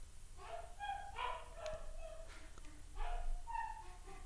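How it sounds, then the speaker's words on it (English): A pet dog barks and yips indoors, several short, fairly close barks in two bursts with whiny, high-pitched tone, heard alone without talking. "Not my brother barking, that's the dog."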